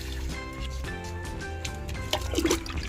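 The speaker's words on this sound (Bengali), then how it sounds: "এইভাবে আমরা প্রত্যেকটা গাছে এই জলটা দিয়ে দেব" Liquid fertiliser made from wet cow-dung cakes is poured onto rooftop garden plants, giving a soft, faint trickle and splash of water up close, with a brief louder gush near the end.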